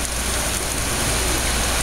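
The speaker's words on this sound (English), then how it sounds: "it's raining pretty good now." Steady rain pours down in a dense, even hiss, with no voices or other sounds breaking through.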